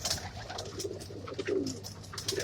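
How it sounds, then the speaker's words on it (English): Pigeons coo from a backyard coop in the morning, several soft low rolling coos repeating across the moment, fairly close, with faint chirps and light background noise and no talking. "I thank God that I have a pigeon."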